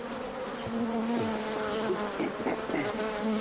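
Bees buzz steadily around a honey harvest, a dense swarm-like drone close by with wavering pitch and no voices over it.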